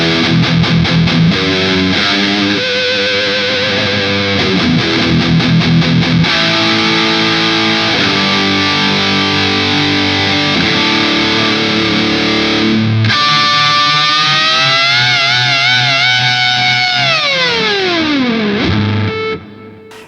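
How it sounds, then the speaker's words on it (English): Aggressive, heavily distorted electric guitar from a Super Strat with a Floyd Rose tremolo through a Revv Generator 120 amplifier: loud sustained chords and riffs, then a long swooping whammy-bar dive that falls away before fading out. "I'm plugged into the Rev Generator 120 with obviously a pretty aggressive tone."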